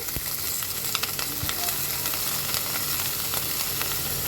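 Bottle gourd peel and seeds fry in a pan with a steady, close sizzle, broken by occasional stirring clicks and scrapes.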